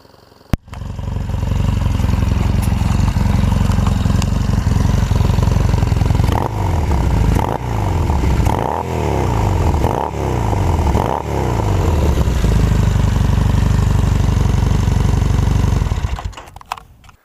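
A 2012 Triumph Thruxton motorcycle engine idles steadily with a loud, rumbling exhaust, then revs up sharply several times in a row before settling back to idle and shutting off.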